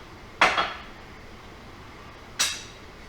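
Two separate scraping clinks of a utensil against a skillet holding macaroni and cheese, one early and one near the end, with quiet between.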